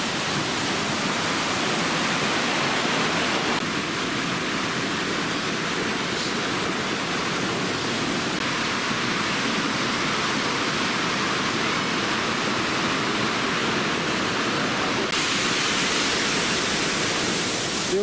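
A waterfall beside a hotel in Azerbaijan roars as a dense, continuous rush of falling water, loud and steady throughout with no voices.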